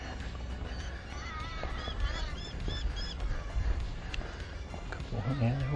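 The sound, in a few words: flock of crows cawing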